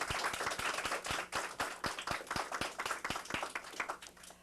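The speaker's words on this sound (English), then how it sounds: "we'd like to give them a round of applause for all their work" A school audience at a sixth-grade quiz show event claps steadily in a round of applause, dense hand claps with distinct sharp slaps, sustained and even for several seconds with no talking.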